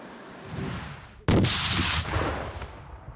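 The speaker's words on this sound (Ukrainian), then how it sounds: "На полігоні військові 128-ї бригади ТРО навчають солдатів стріляти з гранатомету." An RPG-7 grenade launcher fires at a military training range: a single sharp, heavy blast followed by a roaring whoosh that fades, outdoors in the open.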